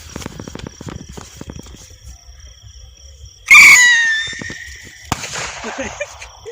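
New Year fireworks launched outdoors: a sudden loud whooshing burst with a screeching whistle that fades over a couple of seconds, then a sharp crack, with people talking and shuffling around before it.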